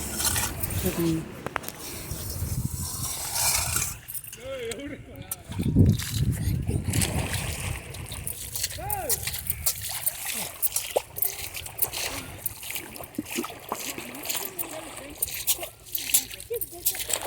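Water sloshes and splashes intermittently as it is scooped and poured, with a person talking over it.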